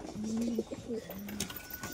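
Pigeons coo softly nearby, with a few low, rolling calls that repeat across two seconds over faint background noise.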